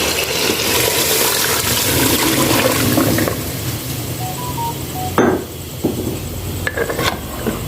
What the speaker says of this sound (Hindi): अब हम डालेंगे इसमें पाए की यखनी